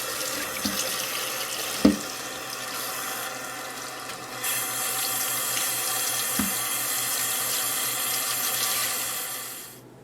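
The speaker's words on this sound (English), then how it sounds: "It's as simple as a dish brush and some hot water." Steady rush of running hot water in a sink as shoes are scrubbed with a dish brush, with occasional knocks and a brief thump, continuing close by before fading out at the end.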